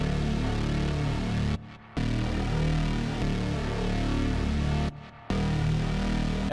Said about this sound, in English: So the next sound I put is this weird sounding bass.